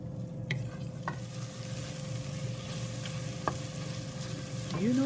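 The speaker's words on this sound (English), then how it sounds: "Sauté for next minute or so on medium heat." Spinach with garlic and black pepper sautés in hot oil over medium heat, giving a steady, close sizzle with a few light utensil taps and clinks against the pan.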